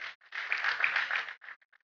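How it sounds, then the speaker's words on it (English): An audience at a college of engineering public lecture claps for the speaker in a short burst that swells, holds and then tapers into a few scattered final claps. "Can we please clap around for the speaker?"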